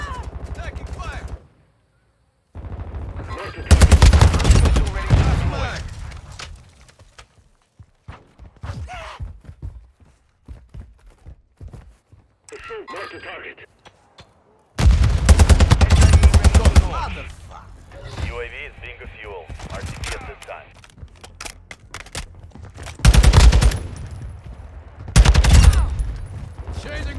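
Call of Duty Modern Warfare 2 multiplayer team deathmatch: loud bursts of automatic gunfire alternate with quieter stretches of footsteps and scattered shots, and voices call out between the firefights.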